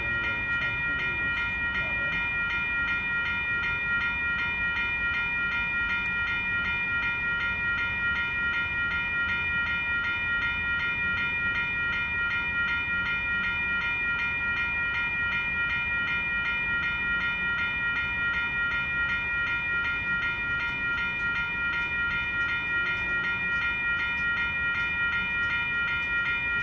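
A BNSF freight train pulled by five locomotives rolls steadily along the rails, a continuous loud rumble with strong sustained tonal whine throughout and faint rail clatter, no voices.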